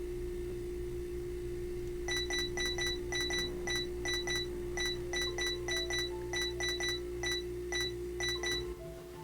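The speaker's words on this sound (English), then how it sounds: "How do you reckon you set off a soda machine alarm?" A soda machine alarm in the Nancy Drew game Secrets Can Kill sounds as a run of rapid, high electronic beeps in uneven bursts. A steady low hum sits beneath it, and there is no talk.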